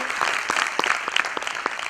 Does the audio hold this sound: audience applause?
yes